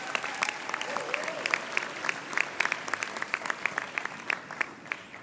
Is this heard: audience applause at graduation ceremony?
yes